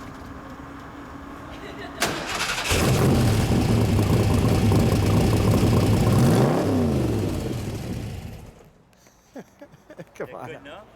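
A 1964 Shelby Daytona Coupe replica starts with a sharp catch, then its engine roars loudly and steadily close by before dropping away to a faint idle, with brief clicks near the end.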